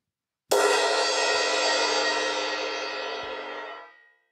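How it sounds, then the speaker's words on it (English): A single cymbal crash struck on the edge, bright and washy, ringing out loudly and decaying slowly over about three and a half seconds. "This is what the cymbal will sound like hit from the edge."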